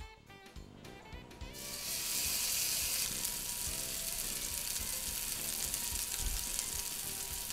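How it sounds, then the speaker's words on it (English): A beef filet steak hits a hot pan and a loud, steady sizzle erupts, crackling continuously for several seconds. "listen for that sizzle"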